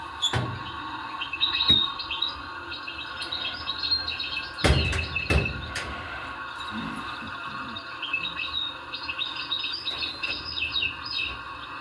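Sparrows chirp from the trees in a busy, overlapping chatter of short high tweets that runs throughout, with a couple of sharp knocks near the middle.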